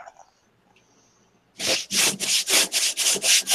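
Wood veneer sanded by hand with PSA sandpaper, 120 or 180 grit: eight rhythmic, close, scratchy strokes following a quiet opening.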